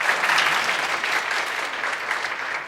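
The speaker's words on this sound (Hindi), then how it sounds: "एक बार नीतीश जी के लिए, जिन्होंने इस जोश एकेडमी को बनाया है, चला रहे हैं, उनके लिए जोरदार तालियां हो जाए।" Loud, dense applause rises from an audience at a motivational talk, a continuous roar of many hands clapping that holds steady and tapers slightly toward the end.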